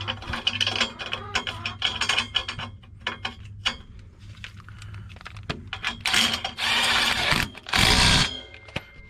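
A ratchet tightens the bolt on a UTV hitch basket modified to fit a Kawasaki Teryx, making close, loud rapid clicking runs, followed by louder grinding bursts near the end.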